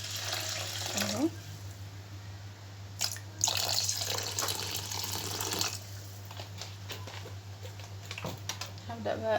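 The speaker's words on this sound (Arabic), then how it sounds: "وبعد كده هزود بقى ميه برضو" Water is poured into a pot of rice for pot kebab with aged rice, a splashing, running stream over a steady low hum, with some clatter partway through.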